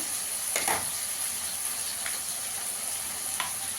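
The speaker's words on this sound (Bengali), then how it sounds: "রসুন আদা কাঁচা গন্ধ চলে যাওয়া অবধি ভেজে নেবো।" Ginger, green chilli and garlic paste frying in a pan for aloo dum, a steady soft sizzle throughout with a few brief stirring scrapes, fairly quiet and close with no voices.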